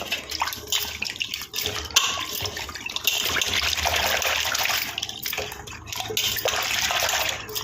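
Tap water runs steadily into a sink while fish is washed before making fish curry, a continuous splashing rush with brief interruptions.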